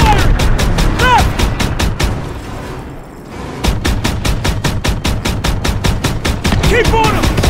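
Rapid automatic gunfire in a Call of Duty WWII battle hammers out in long, loud, evenly spaced bursts, pausing briefly midway before resuming, with shouted voices and combat sounds mixed in.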